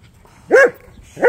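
Two short dog barks a fraction of a second apart, close and fairly loud, with quiet in between.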